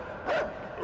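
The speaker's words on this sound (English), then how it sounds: "Dogs are fucking out of their minds." Dogs bark and yelp in the side-scrolling video game Inside, a short burst of frantic barking from a pack, fairly close and loud against a steady game backdrop, with no talk.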